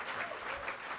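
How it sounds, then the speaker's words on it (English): An audience at a developer conference panel applauds, a dense wash of many hands clapping steadily and close throughout. "I don't know why we're clapping"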